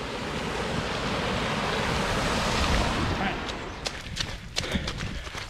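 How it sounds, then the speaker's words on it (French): A waterfall along a riverside walking route near Soulaines-sur-Aubance during flooding, rushing as a dense steady roar that fades after a few seconds, leaving sporadic sharp knocks and handling noise close to the microphone. "La cascade."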